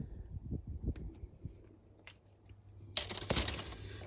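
Plastic parts of a 15mm AH-64 Apache helicopter model kit are snipped off the sprue, a handful of small quiet clicks and cuts, faint and close, ending in a brighter rustling scrape.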